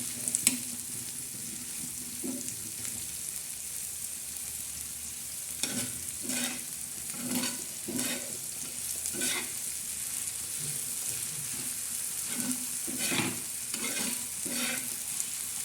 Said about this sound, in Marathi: आता मस्त हलवून घेणार आहोत